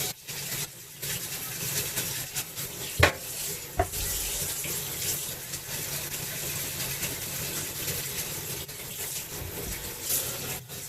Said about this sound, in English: I throw mine in my dishwater. And I scrub them real fast.